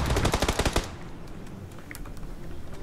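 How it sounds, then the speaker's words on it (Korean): A rapid burst of automatic gunfire in the battle game PUBG, about a dozen sharp shots in under a second, followed by fainter scattered distant shots and game noise. "아니 우리한테 쏜 것 같은데?"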